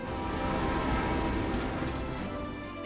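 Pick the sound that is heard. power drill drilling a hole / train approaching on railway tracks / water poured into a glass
train approaching on railway tracks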